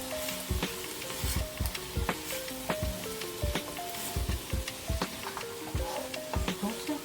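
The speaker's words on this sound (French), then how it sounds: "Donc on va bien mélanger" Seafood spaghetti frying in a pan while being stirred, with a constant crackling sizzle and repeated knocks and scrapes of the utensil against the pan in a loose rhythm.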